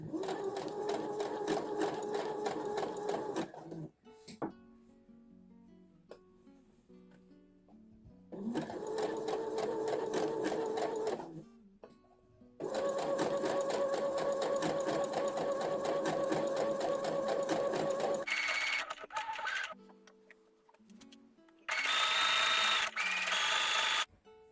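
Sewing machine stitching a blind hem, several long runs of fast, close mechanical whirring separated by pauses, ending with shorter, higher-pitched bursts.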